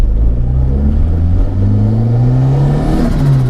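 Modified 226 BHP Ford Escort RS Turbo with a screamer pipe, its engine droning loud and close as it accelerates, the tone climbing steadily as the turbo boost builds, with a hiss toward the end.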